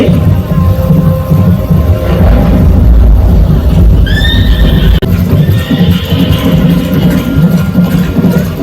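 A horse neighs loudly at a musical water and light show in Bagh-e-Bahu, Jammu, one rising whinny over a dense rumbling soundtrack of music and effects, with a second fainter whinny after.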